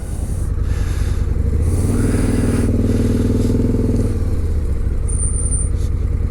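A Harley motorcycle pulls away and then brakes hard at speed, its engine note rising through a steady rumble before settling, with some scraping clatter near the end and no voices.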